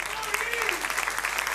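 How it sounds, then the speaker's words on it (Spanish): A church congregation claps in praise to the Lord during a Spanish-language service, a short burst of dense applause while a voice carries on above it. "Dele un gran aplauso al Señor."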